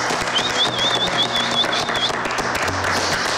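A studio audience claps steadily on a celebrity TV show, dense close applause with a warbling whistle over the first two seconds and some background voices.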